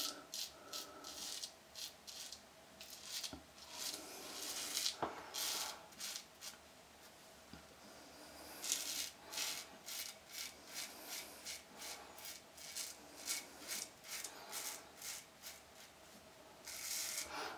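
A Charcoal Goods safety razor on a beard, first pass with the grain, giving close, quiet rasping strokes in a steady repeating rhythm with brief pauses between them.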